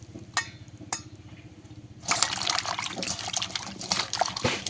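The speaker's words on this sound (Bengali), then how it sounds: "ভালো করে ধুয়ে নেব।" Cut taro stems being washed in a bowl of water: quiet clinking and small splashes at first, then after two seconds a busier stretch of sloshing, swishing water and wet rustling as the pieces are rubbed and stirred by hand.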